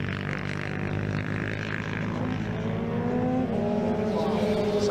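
Race cars at Snetterton accelerate hard together as a safety car period ends, a dense roar of engines with rising pitch and a car passing close by near the end.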